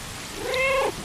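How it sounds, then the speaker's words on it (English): A cat meows once in the video game Stray, a short, clear, rising-and-falling mew lasting under a second, close and alone. "was that somebody else meowing?"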